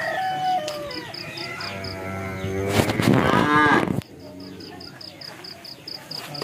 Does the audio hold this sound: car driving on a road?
no